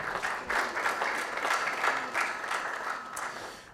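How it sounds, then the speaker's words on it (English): Audience applause for a guest speaker at an IMANI Ghana event, a steady moderate patter of clapping from a seated crowd that swells and eases over a few seconds, with no voices over it. "A round of applause for her."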